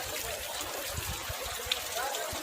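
Floodwater running through Nainital's Mall Road area, where parked cars and motorbikes sit submerged, makes a steady broadband rushing wash with faint trickling, continuous and fairly near throughout.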